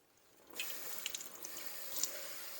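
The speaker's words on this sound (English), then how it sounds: "we just rinse out the cloth, ready to use on the next batch of milk" A cloth used to strain soy milk rinsed under running tap water, a faint, steady stream of water with a few soft splashes and drips, close by in a quiet kitchen.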